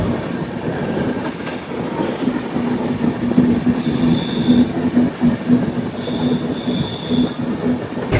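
A Kirandul passenger train climbs a curving ghat section, its wheels squealing in repeated high shrieks over a continuous rolling rumble and faint clickety-clack of the cars.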